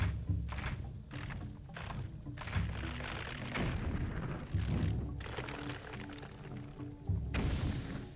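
Bombs go off in Zelda: Twilight Princess as a run of heavy booms and thuds, several loud blasts spaced irregularly over the game's background sound.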